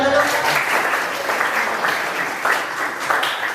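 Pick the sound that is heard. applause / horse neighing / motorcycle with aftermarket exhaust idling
applause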